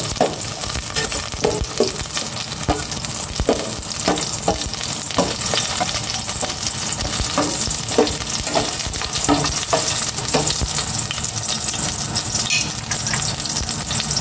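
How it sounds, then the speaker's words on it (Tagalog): Garlic fries in a little cooking oil, giving a loud, close, unbroken crackling sizzle with frequent stirring scrapes throughout. "Maglalagay na ako ng cooking oil. Konti lang. Tapos, lagay ko na itong bawang."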